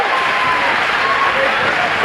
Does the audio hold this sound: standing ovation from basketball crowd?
yes